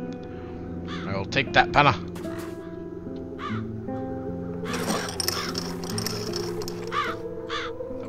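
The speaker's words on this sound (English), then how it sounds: "The crows haven't left anything of the town's banner." Crows caw repeatedly in The Dark Eye: Chains of Satinav, with harsh calls in short bursts, some clustered close together and others spaced out, while someone speaks between them.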